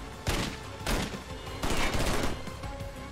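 Bursts of rapid gunfire in the Wheelman video game, three loud volleys in quick succession outside a mansion, close and sharp with brief gaps between.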